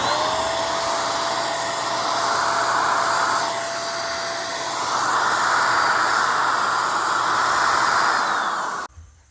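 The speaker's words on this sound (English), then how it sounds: "I'm going to go ahead and spray these down with used motor oil" A sprayer sends a constant loud, hissing jet of used motor oil over stacked firewood outdoors, swelling and easing slightly before cutting off abruptly at the end.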